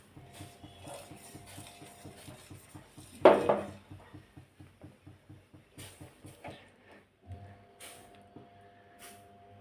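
Semolina being stirred a little at a time into hot milk in a pan, a steady run of light scraping and tapping strokes from a spoon against the metal, with one louder knock partway through.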